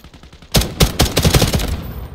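Gunfire rings out in Delta Force Hawk Ops: after a half second of faint ticking, a loud, close volley of about eight sharp shots fires in an uneven rhythm, then trails off into a softer echo.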